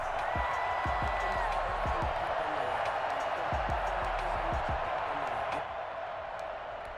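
A stadium crowd in the Madden NFL 21 football video game roars steadily throughout, a dense wall of cheering that eases slightly near the end, with a few faint whistles over it.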